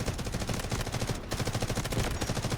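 Rapid automatic M4A1 rifle fire in the shooter game Delta Force, a dense, loud stream of closely spaced shots running almost unbroken, with one very brief pause near the middle.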